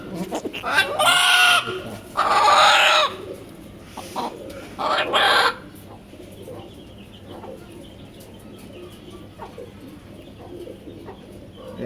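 Native hens squawk and cackle in several loud bursts close by over the first few seconds, then settle into a quieter murmur of farmyard background.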